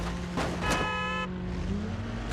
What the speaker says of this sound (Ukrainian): Він почув мої гудки